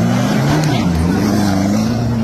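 A Toyota Hilux 4x4 engine drives off road, a steady, loud low drone with a fairly even tone that holds for the whole short stretch without a break.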